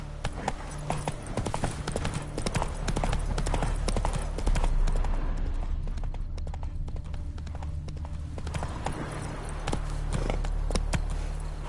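Roach the horse galloping in The Witcher 3, with dense, rhythmic hoofbeats pounding close and loud over steady low game ambience and music.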